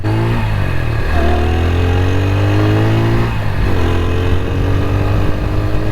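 A TVS Apache 160 4V motorcycle engine revs loudly up close, its tone climbing in two sweeping blips over a steady idle rumble, with no voices over it.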